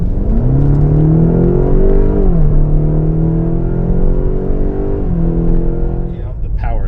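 Tuned Stage 1 BMW X5M accelerating hard from inside the cabin, a loud steady engine drone rising in pitch through two gear changes, with a brief shift dip near the end.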